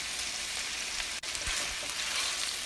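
Beef sizzling as it is stir-fried with sha cha sauce, dark soy sauce, apple cider vinegar and chopped chilies in a wok, a steady broadband hiss with a brief clatter near the middle.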